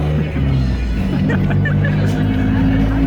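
Steady engine rumble and road noise from inside a moving, crowded bus in Mexico, with people chattering faintly in the background.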